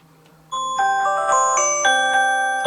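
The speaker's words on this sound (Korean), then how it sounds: "지금 제가 아까 알람 맞춰놔서 지금 울렸던 거고요" A phone alarm set through Bixby rings out loud and close: a bright, chiming melodic tone pattern with sustained layered notes that starts abruptly and repeats across a couple of seconds.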